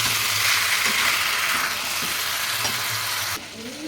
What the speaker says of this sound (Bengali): তাই জন্য হাই ফ্লেমে একটু কষিয়ে নেবো